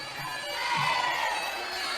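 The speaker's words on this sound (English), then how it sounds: "the crowd is going bananas" A crowd at a Muay Thai fight between Seksan and Rodlek roars and cheers continuously, a dense, fairly distant wash of voices that swells slightly toward the middle.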